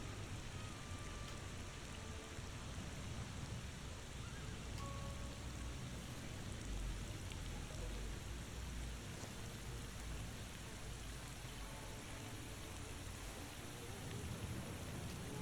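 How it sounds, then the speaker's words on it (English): Steady rain falls in a video game scene, a dense, even hiss of drops across the whole stretch with a low rumble underneath, constant and moderately loud with no voices. "I like the rain effects."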